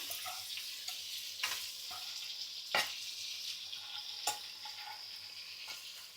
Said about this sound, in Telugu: ఇదిగోండి చికెన్ వేసేద్దాం ఉల్లిపాయ ముక్కలు దోరగా వేగినాయి కదా